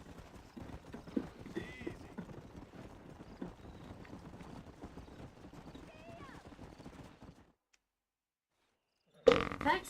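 Horse hooves in the video game Red Dead Redemption clip-clop at a steady, moderate pace for several seconds, then fall silent before a sudden louder noise at the end.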